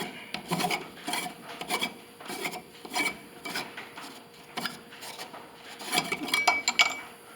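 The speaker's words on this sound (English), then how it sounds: "this thing just screws out" A part of a converted fluorescent light fixture being unscrewed, a series of short rasping, scraping turns in an irregular rhythm, close and moderately loud, with a few light metallic clinks.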